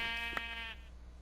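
A sheep in Minecraft bleats once, a short buzzy electronic-sounding cry with a sharp click in the middle, fading out after under a second.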